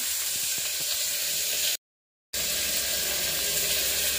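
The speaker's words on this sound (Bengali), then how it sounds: "এখন দিয়ে দেবো রসুনটা। কাঁচা গন্ধটা করবে না একটু ভেজে দিলে।" Garlic fries in a pan with onion, making a steady sizzling hiss and a few light ticks, broken by a brief total silence midway before the sizzle resumes just as strong.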